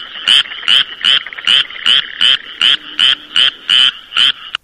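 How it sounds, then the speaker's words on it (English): A frog croaks in a steady rhythm, about a dozen loud, close, evenly spaced croaks with nothing else around them. "croak?"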